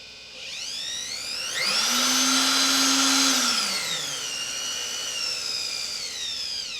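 A heavy-duty Dremel rotary tool running at variable speed, controlled by a foot pedal: a high motor whine that climbs sharply in pitch, holds at full speed, then winds back down to a lower steady hum.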